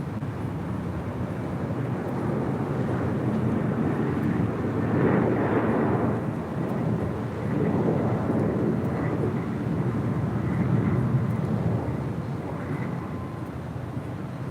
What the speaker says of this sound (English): That's an A321neo. 24 left, clear for takeoff.